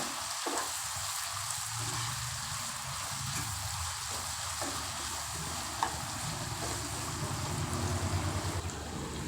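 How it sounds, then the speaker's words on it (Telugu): Chopped onion pieces frying in oil, a dense, even sizzle close by with soft scraping of stirring now and then, no voices. "ఈ ఉల్లిపాయ ముక్కలన్నిటినీ చక్కగా ఫ్రై చేసుకోవాలి"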